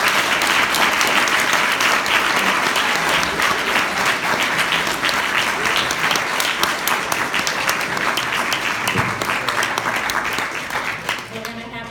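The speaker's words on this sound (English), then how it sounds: "Let's give another round of applause." Sustained applause from a large audience fills the whole stretch, dense and steady, easing slightly toward the end.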